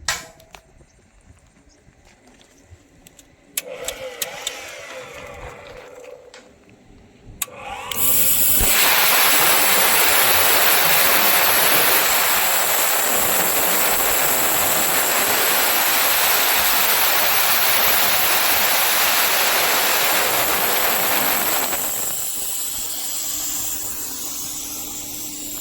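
A plasma cutter with a built-in air compressor slicing through 10 mm steel plate: after a few short clicks, a loud steady roaring hiss runs for about fourteen seconds, then drops to a quieter blowing hiss.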